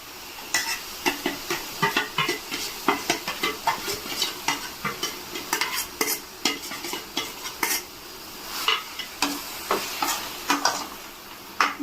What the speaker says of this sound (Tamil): அதுக்கப்புறம் இந்த மசாலாவை போடணுங்க.